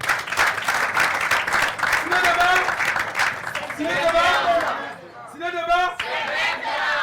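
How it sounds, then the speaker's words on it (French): Audience at a film screening and debate applauds to welcome a guest, a broad clatter of clapping mixed with crowd cheers and chatter, with voices rising over it toward the end. "On applaudit pour accueillir Ziedara."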